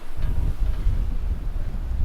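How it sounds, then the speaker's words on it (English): Strong wind buffeting the microphone, a heavy low roar and rumble with steady gusty noise throughout. "It is windy."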